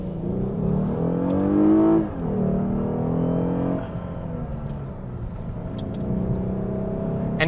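A fourth-generation Lexus GS sedan accelerates on the road, its engine note rising steadily through the gears with audible shifts and smooth revving from inside the cabin, loud and continuous with no talk.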